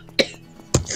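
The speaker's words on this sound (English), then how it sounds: "Stop coughing like that, bro." Two short, harsh coughs about half a second apart, close up, from someone choking on smoke, with faint background noise between them.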